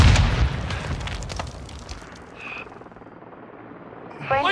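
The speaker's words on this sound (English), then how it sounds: "Incoming grenade!" A grenade explosion in Call of Duty Modern Warfare 2 multiplayer, a loud blast that decays into a rumbling tail, followed by smaller pops and a brief clatter at the end.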